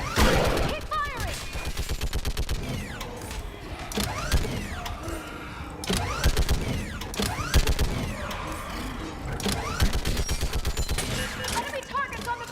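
Dense, continuous combat gunfire in Mass Effect 3 Legendary Edition on Insanity difficulty, rapid repeated shots with mechanical clatter, loud and close, while voices shout orders.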